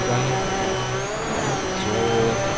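A rally car engine in DiRT 3 holding a steady high drone in fifth gear, loud and continuous, with no talk over it.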